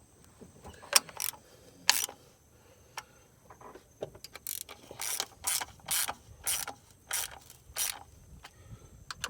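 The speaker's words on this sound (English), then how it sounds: "So we're just going to go back and forth and tighten them till they're a little snug" Ratchet tightening oil cooler bolts on a 2013 Dodge Challenger's 3.6L Pentastar engine, short bursts of rapid clicking in back-and-forth strokes, close and moderately loud with pauses between.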